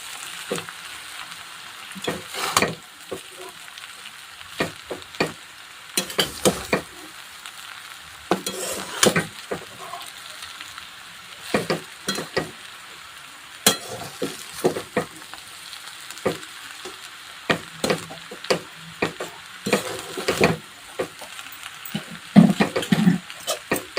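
Poha being stirred and mixed in a pan over low heat, a series of sharp scraping and tapping strokes in irregular bursts over a quiet sizzle, with no talking.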